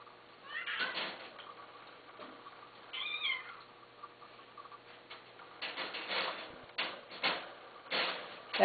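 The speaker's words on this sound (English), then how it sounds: "That noise you hear in the background and the squeak, that's Lulu." A cat meows and squeaks in short, separate bursts across a quiet indoor room, clear but not loud, with no talking over it.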